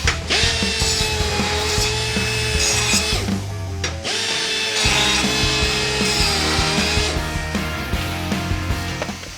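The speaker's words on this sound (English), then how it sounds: "we just need to take that minimal amount of burr off" A die grinder works a burr off a metal part before welding in a motorsport workshop, a steady loud whine with shifting pitch that dips briefly near the middle and then resumes, running continuously with no talk.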